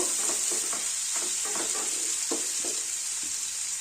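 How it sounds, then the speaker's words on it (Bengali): Grated ginger and garlic fry in oil for a chicken soup, giving an even, close sizzle throughout. Soft repeated scrapes run underneath as the mixture is stirred. "দিয়ে আবারও একটু এভাবে নেড়ে চেড়ে নেব। এভাবে ভালো করে একটু ভেজে নেব"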